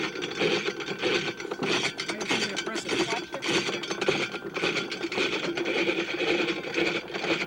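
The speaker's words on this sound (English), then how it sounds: "There's a toothed wheel in the center that pulverizes them." An apple crusher with a toothed wheel in the center grinds and pulverizes apples, giving a loud, continuous mechanical grinding and rattling that fills the whole stretch steadily without pause.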